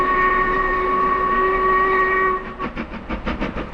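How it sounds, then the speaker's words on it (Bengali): The Jacobite steam train crosses the Glenfinnan Viaduct in Scotland, sounding a loud, sustained steam whistle before breaking into rhythmic chuffing as the locomotive works across the span. "এই অসাধারণ গ্লেনফিনান ভায়াডাক্ট আর সেই সঙ্গে জ্যাকোবাইট স্টিম ট্রেন।"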